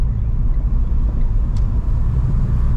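Renault Sandero RS car accelerating on the road, a steady loud low engine and road rumble filling the cabin without pause.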